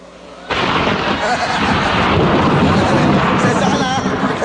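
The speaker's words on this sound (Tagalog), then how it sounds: "Kumukulog lang. Kumukulog. May bagyo eh." Loud, sustained thunder rolls through a storm, a broad rumbling roar that starts abruptly and holds steady, with faint voices in the background.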